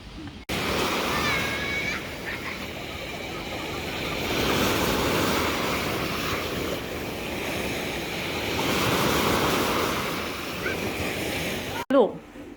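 Sea waves roll onto the beach at Jomtien in a broad, rushing wash that swells and recedes in slow surges, mixed with wind buffeting the microphone and faint voices nearby.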